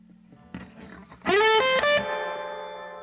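Electric guitar with a humbucker played through an Akai tube amp conversion with reverb, a soft note followed by a loud, distorted chord that rings out and decays into a reverb tail.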